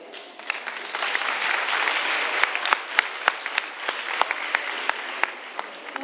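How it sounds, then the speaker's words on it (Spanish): Audience at a school Halloween party and contest applauds steadily, a broad wash of clapping with sharper individual claps standing out, swelling and holding at moderate loudness. "Un aplauso fuerte"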